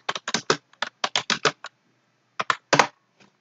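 A computer keyboard clatters under quick typing into a browser: a rapid run of about a dozen close, crisp keystrokes, a short pause, then a few more taps.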